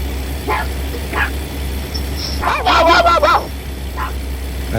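A dog barks in a few short, sharp bursts, then a quicker cluster of yips, heard at moderate distance over a low steady rumble from a truck cab in American Truck Simulator.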